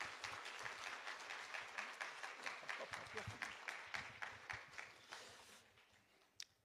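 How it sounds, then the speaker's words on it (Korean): Church congregation clapping to welcome a pastor forward for a testimony, a faint, steady patter of applause that thins out toward the end, with a single sharper knock near the close. "큰 박수 부탁드립니다"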